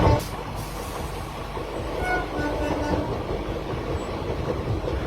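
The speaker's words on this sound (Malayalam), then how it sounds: "ദുർഗ് സ്റ്റേഷനിൽ വണ്ടി ഒരു ചെറിയ രോദനത്തോടെ നിരങ്ങി നിൽക്കുകയാണ്" A train arriving at Durg railway station in Chhattisgarh rumbles along with a steady, loud low roar and faint rail clatter, the sound holding evenly without a clear slowdown.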